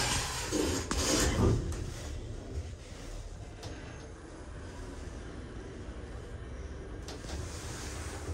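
Rubax lift doors closing in a shopping centre, a sliding rumble with a clunk early on, then a low steady hum of the car moving, moderately loud and close.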